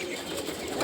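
Pigeons coo briefly amid a dense, noisy outdoor background, the soft throaty call partly masked and heard only for a moment.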